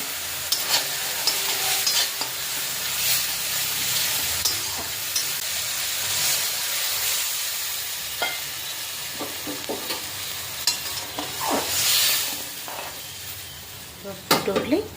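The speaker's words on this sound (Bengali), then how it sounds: "মশলাটা কষানো হচ্ছে" Spice paste with onion, green chilli and salt sizzles and fries steadily in oil in a kadai, with stirring scrapes and occasional clinks of a utensil against the pan throughout.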